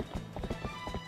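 Epona, a horse in the video game The Legend of Zelda: Twilight Princess, clip-clops in a quick, quiet rhythm of hoofbeats over a brief span, with only a faint hint of a whinny.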